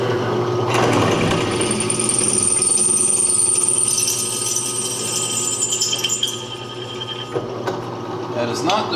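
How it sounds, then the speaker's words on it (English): A dull drill bit bores into metal near a bolt during a Farmall Super H tractor restoration, giving a loud steady whining grind with a high squeal that fades as the bit slows, close to the microphone. "That is not the sharpest drill that I've got."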